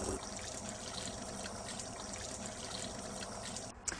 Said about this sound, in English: But first, wash your hands.